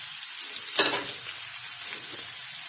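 Sliced onion and ginger sauté in a hot pan, giving a close, loud sizzle with a sharp crackling burst as they hit the oil. A steady hiss follows, with no voices.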